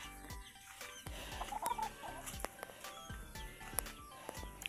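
Chickens clucking in a backyard in Zamboanga, Philippines, soft intermittent clucks scattered through a busy outdoor ambience, with scuffling and rustling around them.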